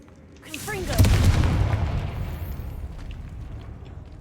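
In the video game Hogwarts Legacy, the Confringo explosive spell is cast: a short rising whoosh leads into a loud, booming blast that rumbles and slowly fades across several seconds.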